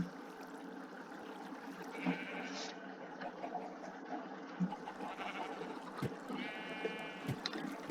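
A sheep bleats a couple of times in Minecraft, wavering and mid-loud, over a steady ambient background hum.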